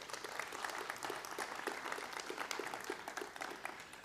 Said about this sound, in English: I think that's deserving a round of applause.